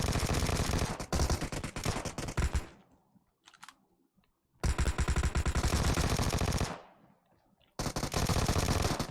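Rapid automatic gunfire in a multiplayer shooter video game comes in long, dense, loud bursts, with short quiet gaps between the volleys and no voices over them.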